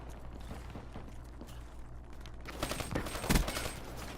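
Loud, sustained automatic gunfire with heavy recoil from a video game weapon, building into a dense, near volley toward the end.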